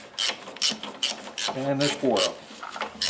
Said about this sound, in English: Now I'm removing the 14mm bolt.